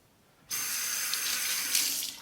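Tap water starts abruptly and runs in a steady, close rushing stream into a sink while a razor is tempered for shaving, with no voices over it.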